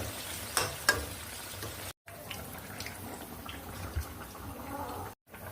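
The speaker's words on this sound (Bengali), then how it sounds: "শাকটা আমার সিদ্ধ হচ্ছে, এখনো ভালো সিদ্ধ হয় নাই" Bottle gourd greens simmer in a pan after a little water is added, giving a low bubbling sizzle with occasional stirring clinks and two brief dropouts, close up and with no talking.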